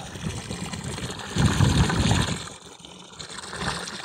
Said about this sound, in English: The water is a little cool coming out of the ground.